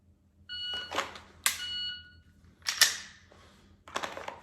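Short, sharp bursts with bright tones mark a shot timer beeping during a concealed-carry dry fire drill, followed by clicks and rustling handling noise in a quiet room.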